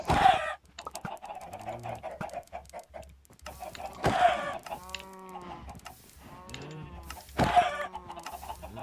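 Chickens in the Minecraft video game cluck repeatedly in short bursts, with game sound effects and background music sounding between them.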